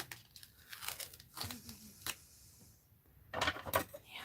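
Paper being cut and handled for an art journal, with crisp snips, rustling and crinkling near the mic, and a louder burst of crackling toward the end.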